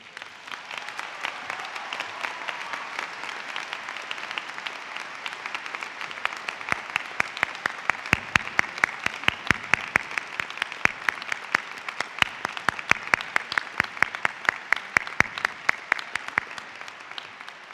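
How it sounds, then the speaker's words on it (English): Audience applause at a December commencement ceremony: a large crowd claps steadily, building to dense, sharp clapping that keeps going for the whole stretch. "One more round of applause."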